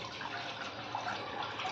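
Two cups of water poured into a pot heating on a gas stove for chai, a close, steady splashing stream running throughout.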